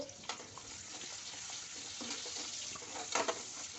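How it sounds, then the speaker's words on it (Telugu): Green chillies and chopped onions fry in oil left over from frying fish, giving a soft, steady sizzle with occasional stirring scrapes and small pops, faint and close. "ఆ నూనెలోనే కొంచెం పచ్చిమిరపకాయలు వేసుకొని ఉల్లిపాయలు కట్ చేసి వేసుకోండి"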